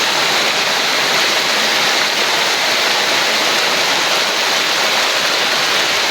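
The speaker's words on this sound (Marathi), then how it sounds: "बघा किती पाऊस लागतोय." Heavy monsoon rain pours in a Konkan village, with a river in flood nearby; a loud, dense, steady wash of water fills the whole stretch without pause, close and constant, with no voices.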